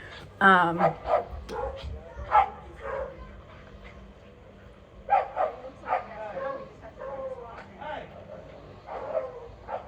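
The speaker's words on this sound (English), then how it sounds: "There's a dog fight going on outside." A dog fight outside sets off sharp barks, yips and whimpers in irregular bursts with quiet gaps between them. The dogs sound fairly distant, and the noise comes and goes over about ten seconds.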